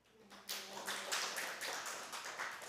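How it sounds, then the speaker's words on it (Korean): Congregation in a Korean church service clapping together, a dense sustained burst of hands that starts abruptly and holds steady for a couple of seconds without speech. "박수 한번 쳐주세요"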